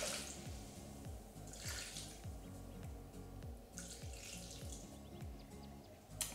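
Cooking liquid pours steadily into a Thermomix bowl while making paprika chicken strips, a continuous splashing, trickling stream with rapid bubbling gurgles, close and fairly quiet, with no talk.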